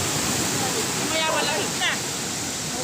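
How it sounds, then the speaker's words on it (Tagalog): Strong sea waves break and wash along a beach in a steady, loud, broadband roar, with brief voices cutting through the surf. "Ang lakas-lakas pa ng alon eh."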